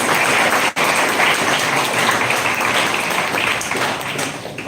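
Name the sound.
applause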